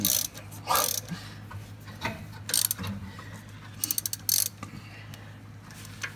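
A ratchet fitted with a 9/16 socket tightens a brake hose on a 1994 Ford F-350 diesel, giving several short bursts of rapid clicking between pauses, close up and fairly quiet.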